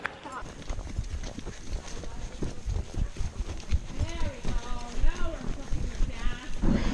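A horse steadily clip-clops along a wooded trail with hills nearby, its hoofbeats close and rhythmic while people talk over them throughout.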